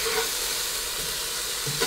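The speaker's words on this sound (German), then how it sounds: "Das Fleisch einfach kurz und knackig anbraten und dann rausnehmen" Meat sears loudly and continuously in a hot Dutch oven, a dense crackling hiss with no voices.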